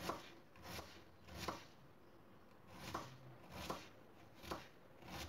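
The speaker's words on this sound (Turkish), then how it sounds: "yine aynen öyle çok ince bir şekilde doğruyorum." A knife slices onions very thinly on a cutting board, giving faint, regular chops in clusters of one or two about every second and a half, with no talk.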